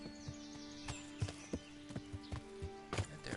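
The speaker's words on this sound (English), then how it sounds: "My fucking horse goes directly into a tree." A horse's hooves in Kingdom Come Deliverance, irregular clip-clop thuds at a moving pace over a steady ambient drone, close and moderately loud.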